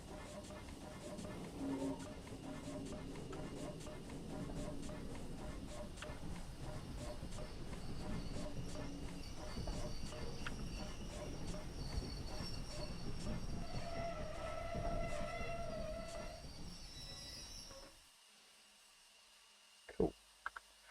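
A Cockatiel locomotive hauling heavy carriages brakes in Train Simulator, with rolling wheel noise, rattling clatter and rising squeal tones for about eighteen seconds before the sound cuts to near silence, followed by a couple of short clunks.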